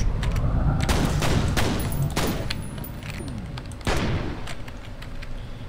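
Gunfire in the first-person shooter F.E.A.R. rings out as loud, close volleys of rapid shots, then eases into scattered single cracks with another sharp burst later on.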